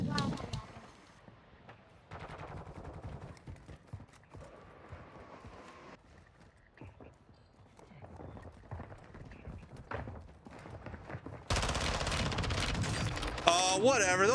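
Gunfire in the Call of Duty DMZ video game comes as scattered sharp shots and bursts among footsteps and game noise, mostly moderate in level, with a voice talking over parts of it.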